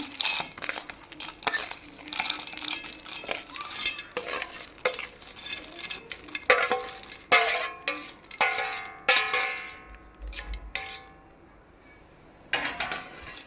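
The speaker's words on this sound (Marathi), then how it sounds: "गार झालेले शेंगदाणे मिक्सरच्या भांड्यात काढून घेते" Cooled fried peanuts are tipped into a mixer jar, producing a scattered rattling of nuts against metal, with clinks and scrapes from a spoon in irregular bursts, then a short pause and a last few knocks.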